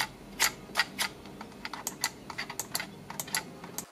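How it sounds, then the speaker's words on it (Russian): Button clicks from a Hator Vortex EVO budget gaming mouse with a hollow, plastic crack, about a dozen sharp taps in an irregular rhythm, close and fairly quiet, with no talking. "их клик напоминает мыши из 90-х, когда после каждого нажатия был слышен пустой пластиковый треск"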